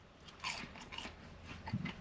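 Crunchy crinkle-cut fries from Church's Texas Chicken being bitten and chewed up close, a few crisp bites and crackling chews, fairly quiet with no talking.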